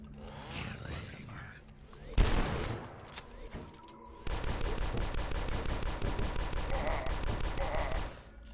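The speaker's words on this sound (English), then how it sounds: "Shotgun, yeah, shotgun." Shotgun fire in the retro shooter game Dusk, with a heavy blast followed by a rapid, sustained burst of repeated gunfire that runs for several seconds, loud and close, mixed with game noise and a voice talking.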